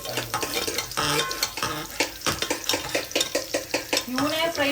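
Food fries in a pan while a metal spoon stirs and scrapes against it, producing rapid rhythmic clatters over a loud, continuous sizzle, close to the microphone, with brief voices mixed in.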